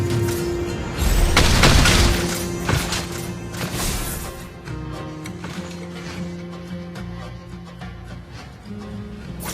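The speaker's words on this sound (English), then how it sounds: "Our turret has been destroyed." A booming crash as a turret is destroyed in Mobile Legends, with a loud impact near the start that trails off into layered game effects and background music.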